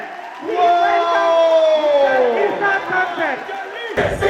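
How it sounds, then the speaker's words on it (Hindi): A standing audience greets a company DGM with loud, sustained cheering and shouts at a felicitation event, voices whooping together over the crowd for several seconds before a sharp thump near the end. "तो हम इस पर्सन को बुलाने के लिए सबको खड़े होके तालियों के साथ स्वागत करेंगे स्मार्ट वैल्यू का डीजीएम, मिस्टर इरशाद खान"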